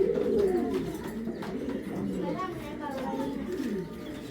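A pair of Tiger Choco pigeons coos close by in soft, rolling throaty calls, with someone talking over them.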